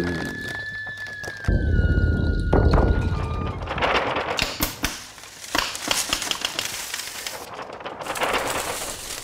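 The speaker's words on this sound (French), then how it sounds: "ces mises en mouvement de papier vont créer des claquements, des froissements, des pages qui se tournent" A paper organ built by a paper artisan sets sheets of paper in motion, producing sharp claps, crinkling rustles and flapping page-turn sounds in irregular bursts, preceded by a brief sustained tone.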